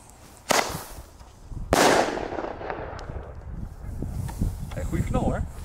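Thunderking firecrackers set off outdoors: two sharp, loud bangs about a second apart, each leaving a fading crackling tail, followed by lingering rumble and faint scattered sounds.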